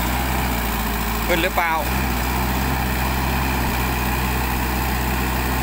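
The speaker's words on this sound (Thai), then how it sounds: "เร่งเครื่องอัดใส่เลย" A slide tow truck's engine runs steadily while pulling a mini backhoe, a continuous low rumble with a brief louder surge partway through, as someone speaks briefly over it.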